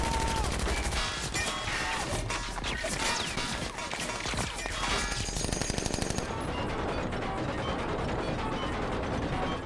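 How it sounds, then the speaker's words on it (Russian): Automatic gunfire striking an old, rusty metal tractor in GTA Online: a fast, loud clatter of clanging metallic hits for about six seconds, then quieter scattered mechanical rattling and clicks. "Теперь всегда буду вспоминать настоящий звук стрельбы по металлу"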